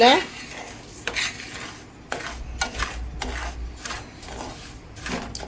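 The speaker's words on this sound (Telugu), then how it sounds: "అది ఆ రవ్వ తీసుకొచ్చి వేయించుతున్నానండి" Dry rice semolina granules roasted in a metal pan, scraped and stirred, with repeated clinks of a utensil against the pan and a faint sizzle underneath.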